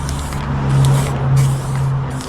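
A spray gun applies primer paint, giving a loud steady hiss over a low humming drone, with the hiss swelling in a couple of longer passes and no speech.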